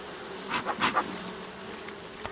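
Honeybees swarming a hive just after being puffed with smoke, a steady close insect buzz with several louder swells as bees pass near, no talking.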